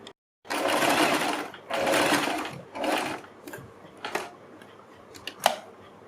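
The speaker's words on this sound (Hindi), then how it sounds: "यहाँ से हम सिलाई लगानी शुरू करेंगे, यहाँ से यहाँ तक" Sewing machine stitching the neck of a suit, three close whirring runs of stitches, each about a second long, followed by a few softer clicks and handling taps.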